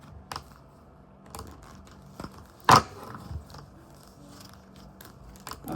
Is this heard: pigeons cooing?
no